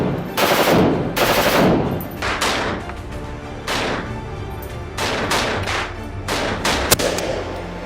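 Loud bursts of FN FAL rifle fire, the Belgian-built Fabrique Nationale battle rifle, crack out in close, repeated volleys and rapid strings of shots with echoing tails, with no talking.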